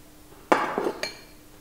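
A metal tablespoon scooping flour into a sourdough starter jar, giving two sharp clinks against the container and a soft scrape between them, close up and fairly quiet.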